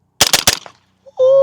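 An SLR9 AR9 pistol-caliber rifle fires in rapid bursts: three sharp close cracks in quick succession, followed after a short pause by a steady electronic tone.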